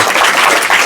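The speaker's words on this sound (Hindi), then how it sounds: "जोरदार ताली बजाओ इस रवि जी के लिए।" Children applauding in a village free coaching class, a brief burst of loud, dense clapping from many small hands, close and continuous.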